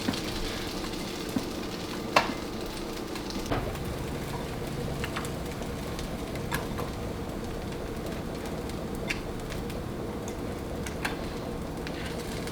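Egg-batter soaked bread fries in a pan with a soft, steady sizzle, accompanied by occasional light clicks and taps.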